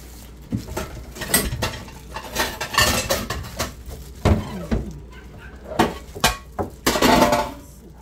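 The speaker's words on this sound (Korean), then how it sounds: "수육을 썰어 봅니다." Boiled pork (suyuk) being sliced and plated in a home kitchen, heard as irregular knife taps, dish clinks and cutlery clatter at close range, with brief louder knocks against a plate and no talk.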